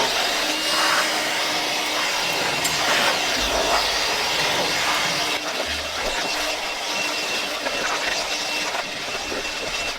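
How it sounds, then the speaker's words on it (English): An air blower runs continuously in a car shop during work on an original Jeepster, a loud, steady broadband rush of air close by. "Give me the blower."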